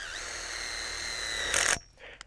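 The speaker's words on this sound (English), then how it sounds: "taking your self-tapping screw and just come about an inch up from the ground and drill into the ground" A power drill drives a self-tapping screw into a metal ground post of a high tunnel greenhouse frame: a steady whining drill motor, a brief louder grinding burst as the bit bites through the metal, then it stops, leaving a small clatter.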